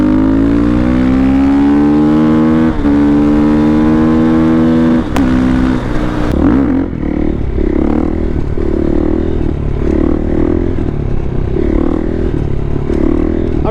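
A motorcycle cruises at about 35 mph, its engine a loud, steady harmonic drone that shifts pitch midway as the rider changes speed, then rumbles on with rhythmic pulsing under wind rush close to the mic.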